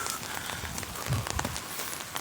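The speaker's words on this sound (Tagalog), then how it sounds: "Malakas ang ulan ngayon." Heavy rain falls steadily on hard surfaces in a town street, a soft, even hiss with scattered drop patters, fairly faint overall.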